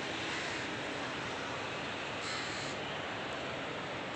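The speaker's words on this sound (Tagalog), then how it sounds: "yung mga ibon naman nagpipistahan" Many crows cawing together beneath a bridge in Jurong East, Singapore, a steady dense wash of bird calls with a roar like surf or wind, constant and fairly loud with no talk.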